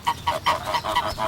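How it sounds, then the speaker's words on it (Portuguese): Geese in an orchard honk repeatedly, about six short nasal calls in an uneven rhythm, moderately close with no talk over them. "Os gansos podem fazer um bom trabalho aqui no pomar."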